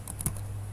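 Commands being typed on a computer keyboard while configuring Cisco inter-VLAN routing: a few faint, quick key clicks close by, unevenly spaced over a low steady hum.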